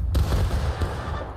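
Musket volley in the War of Rights video game, a booming burst of gunfire with a sharp onset and rolling rumble that decays over a second and a half, loud and close.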